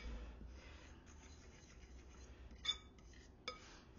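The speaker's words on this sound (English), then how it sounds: "And so we're going to just go ahead and stir this all up." A utensil stirring beer batter with seasoning salt and spices in a bowl, quiet soft scraping with a couple of light clinks against the bowl.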